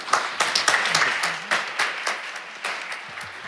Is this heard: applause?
yes